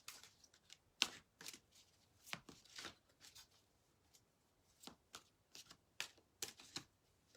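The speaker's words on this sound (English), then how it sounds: "let's go ahead and give us a shuffle and pull our first card." A deck of cards is shuffled in a quiet room, with a series of soft riffling bursts and light taps spaced irregularly over several seconds.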